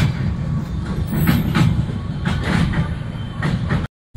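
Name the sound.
Netaji Express train crossing old iron bridge over Yamuna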